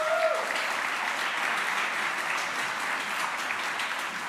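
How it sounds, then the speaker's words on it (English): Audience applause after a Diwali celebration performance, a dense, even round of clapping from a crowd that holds steady throughout. "Do we want to give them a round of applause once more?"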